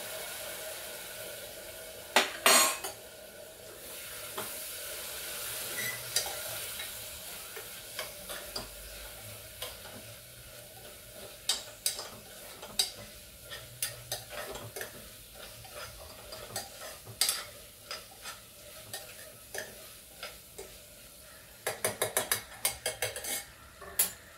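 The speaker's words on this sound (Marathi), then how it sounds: "थोडे मसाले आपण ह्याच्यामध्ये शिजवून घेऊया." Spices cooking in a ladle of boiled water for Gujarati khichdi give a faint, close, steady sizzle and bubble, broken by scattered metallic clinks and scrapes of a utensil.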